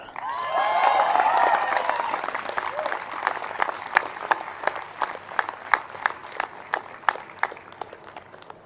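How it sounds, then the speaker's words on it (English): Audience applause at a graduation convocation rises with some cheering, then thins into scattered individual claps that continue at a steady, slowing pace. "A huge round of applause."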